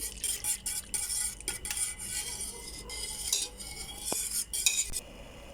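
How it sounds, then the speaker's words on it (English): Milk and condensed milk heating in a pot for custard tart filling, stirred continuously, with a utensil clinking and scraping against the pot in quick, irregular strokes over a soft background hiss. "Stir continuously to ensure that this does not catch at the bottom."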